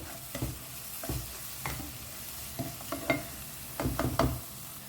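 Goan pulao stirred in a cooking pot, a low steady simmering sizzle broken by repeated soft spoon scrapes and knocks against the pot, a cluster of quicker strokes near the end, close and moderate, no speech.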